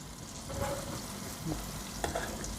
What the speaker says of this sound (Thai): สำหรับสูตรนี้นะคะกำลังทอดนะคะ